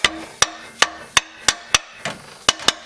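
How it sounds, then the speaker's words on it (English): About nine sharp metallic hammer taps on an Arctic Cat 650 Prowler engine casing ring out at a steady pace, each a crisp strike with a short ringing tail, close and fairly loud. "I'm going to take a hammer and tap this and see if I can get it to separate"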